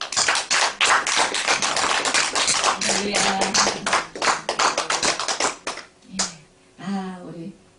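A church congregation claps together on Easter morning in a dense, loud burst of rapid applause that thins and fades, while a voice speaks briefly over the clapping near the end.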